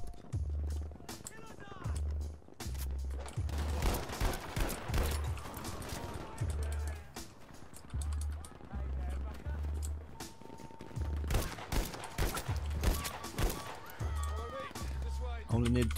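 A semi-auto rifle fires in a video game as sharp, repeated shots ring out one at a time over a steady game backdrop, with someone talking throughout.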